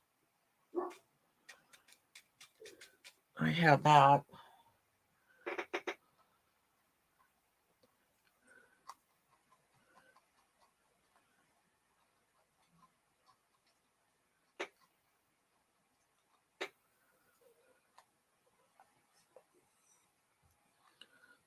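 A dog barks in a short cluster of a few yelps, moderately close indoors, followed by sparse faint ticks and taps; a voice briefly speaks.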